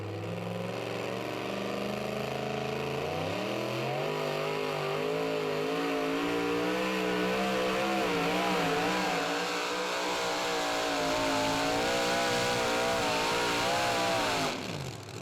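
Super modified two-wheel-drive pulling truck After Midnight making a pull at the 2016 Young Farmers Truck & Tractor Pull, its engine roaring loud and continuous, climbing in pitch and holding a heavy, strained howl.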